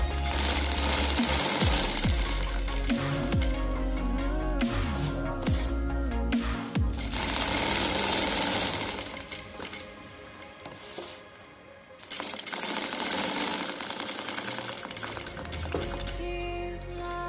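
A sewing machine stitching fabric runs loud and close with a rapid mechanical chatter, keeps going with a brief slower dip in the middle, then resumes at full speed.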